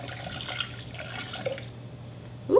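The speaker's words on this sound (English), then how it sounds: "we're gonna add in a cup of boiling water." Boiling water pours from a container into Jell-O mix, a soft continuous trickle followed by a brief louder splash at the end.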